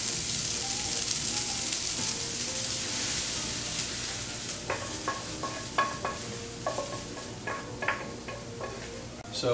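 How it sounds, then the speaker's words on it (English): Onions and peppers sizzle in a pan on low heat, a soft steady frying hiss with occasional stirring clinks and scrapes near the end, no talk over it. "So we just added the onions and peppers to the mix"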